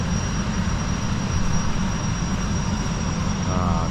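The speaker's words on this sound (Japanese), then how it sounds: "ジェットフォイルがまた戻ってまいりました。 先ほど飛び立っていったやつが 着水する。" Jetfoil hydrofoil ferry coming down onto the water off Fukue Island in the Goto Islands, giving a steady, loud, airplane-like jet roar with a constant high whine that holds unbroken throughout.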